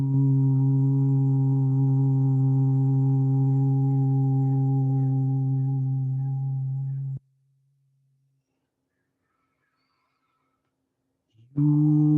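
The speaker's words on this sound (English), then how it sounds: "I'll begin those tones now." A steady, loud electronic tone for meditation hums with layered low harmonics for about seven seconds, then cuts to near silence before the tone returns abruptly near the end.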